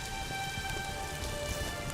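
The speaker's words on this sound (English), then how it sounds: "It's really raining now." Steady video-game rain in The Witcher 2 patters densely on a hard surface, an even close hiss with faint tonal hums running underneath and no voices.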